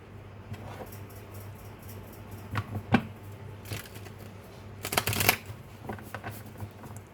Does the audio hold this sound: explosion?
no